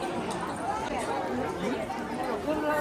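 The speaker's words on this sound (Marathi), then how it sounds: "गर्दी किती" A crowd chatters at the Tulja Bhavani temple as a steady, dense babble of many nearby voices, with no single voice standing out.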